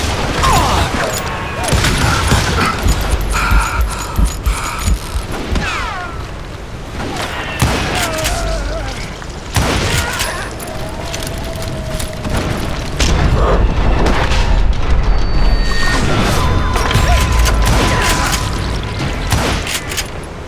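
Gunfire in a Wild West shootout in Call of Juarez: Gunslinger, with repeated sharp shots and heavy booms throughout, steady and loud, mixed with mechanical clicks and game effects.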